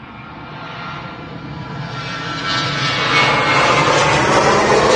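A Ryanair Boeing 737 jet airliner departs Manchester Airport, its engine roar swelling steadily louder and closer over five seconds, broad and rushing with no voices over it.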